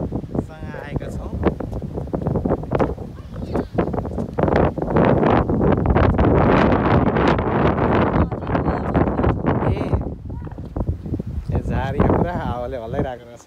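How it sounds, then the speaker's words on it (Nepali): Wind gusts outdoors beside a river, buffeting the microphone in loud, rough bursts that swell and fade, while people talk through much of it. "हावाले हल्लाइरहेको रहेछ"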